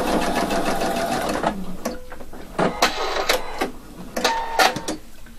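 A sewing machine runs in a long continuous burst while stitching a double welt pocket on a garment, then stops and restarts in several short, close bursts with pauses between them.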